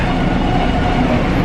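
Train cars roll along rails on a commuter line, a loud, close, steady rumble of wheels and carriage noise with no talking.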